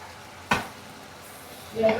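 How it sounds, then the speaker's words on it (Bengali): Onions and spices frying in a pot, a low steady sizzle with one sharp utensil knock and a brief scraping stir near the end, quiet and close. "নাড়া নাড়া দিতে হবে নাহলে নিচে মশলা পেঁয়াজ সব পুড়ে গেল"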